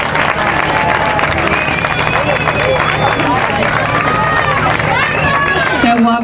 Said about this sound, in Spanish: Un aplauso para los niños, por favor, que se lo merecen.